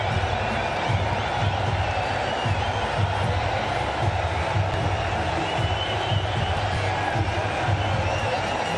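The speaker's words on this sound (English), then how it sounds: "With that 6, it's brought the crowd to its feet." Dense roar of a large cricket stadium crowd cheering after a six in an India vs Pakistan match, sustained and loud throughout, with a commentator's voice running underneath.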